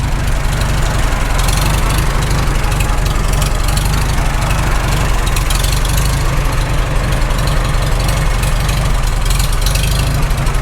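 A rebuilt Farmall H tractor engine idles loud and close after its first start, a steady low rumbling chug with a constant throb and no pauses.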